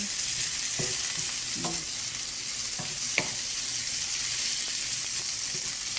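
Food being stirred in a frying pan, a steady loud sizzle throughout with a few scattered scrapes and knocks of the utensil, close up and with no talking.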